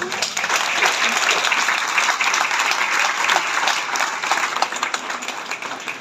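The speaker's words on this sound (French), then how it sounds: "on peut être fier et on peut applaudir" An audience applauds warmly at a new-vintage presentation in a wine cellar in Trets, Provence, with dense sustained clapping filling the room and some crowd voices underneath.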